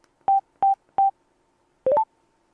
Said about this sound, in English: it's 3 clicks of the intercom button.